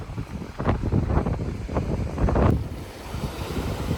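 Gusty sea wind roars across the microphone on an Odessa beach, rising and falling in loud bursts over a low surf rumble.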